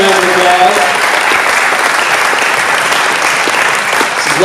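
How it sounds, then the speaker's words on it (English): A loud, sustained wave of applause from a high school audience at a robotics team event fills the room, with crowd murmur and cheering blended into the clapping throughout. "Give her a giant round of applause."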